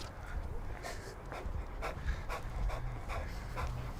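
A dog pants hard and rapidly while being walked, steady rhythmic breaths close by with faint background noise.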